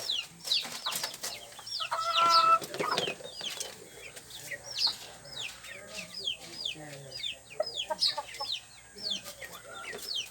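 Chickens and roosters cluck and call repeatedly around a small backyard poultry farm, with bursts of busy fowl chatter and a brief flutter of wings, while a person talks at times over the birds.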